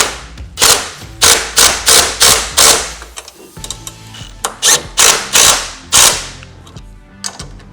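Ratchet snugging lock nuts on a Luverne Grip Step XL running board being fitted to a RAM ProMaster, sounding as quick close bursts of clicking, about a dozen short loud runs separated by brief pauses.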